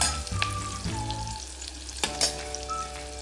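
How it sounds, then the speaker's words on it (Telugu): Onions and green chillies fry in hot ghee, a steady loud sizzle with intermittent scraping and clinks as a spoon stirs the pan close up, no voices. "కట్ చేసి పెట్టుకున్నటువంటి ఉల్లిపాయలు, పచ్చిమిర్చి అయితే వేసుకొని వేపుకోవాలి. ఇలా తిప్పుకుంటూ అయితే వేపుకోవాలి."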